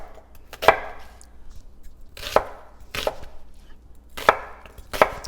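A knife chops through an onion on a cutting board, about five crisp, separate knocks spaced irregularly, close and clear with no talking.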